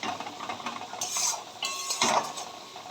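Soybean curry spices fry in a pan with a low flame, stirred by a metal spoon that scrapes and clinks against it in a few short bursts over a soft sizzle.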